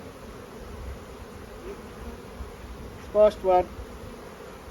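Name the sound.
honey bees buzzing at a hive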